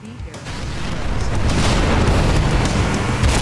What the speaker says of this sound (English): the engines will detonate